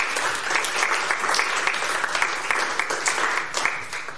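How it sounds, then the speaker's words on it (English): Congregation at a parish church service applauds, a steady round of clapping from many hands at moderate level, sustained for a few seconds before beginning to thin. "A round of applause for Hallie."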